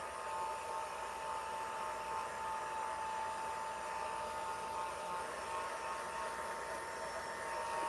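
A hair dryer blows steadily on fresh craft work, a continuous whirring hiss with a constant motor whine, moderately quiet and unbroken throughout.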